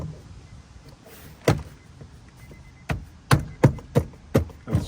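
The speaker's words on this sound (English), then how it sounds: "push the door card onto the door" Plastic clips snap as a trim panel is pushed onto the front driver door of a 2001-2006 Acura MDX, a single sharp pop followed after a pause by a rapid run of five close, loud clicks.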